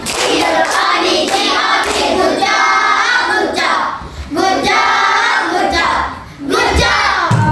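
Students clap out a rhythmic 'tepuk gocap' pattern in a classroom, loud close bursts of patterned hand claps mixed with chanting voices, with brief pauses between phrases.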